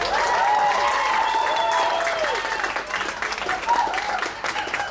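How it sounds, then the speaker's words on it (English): Audience applause at a PechaKucha Night event in Bali rings out loudly at first, then thins and tapers, with faint voices and crowd noise mixed in toward the end. "Applause, guys."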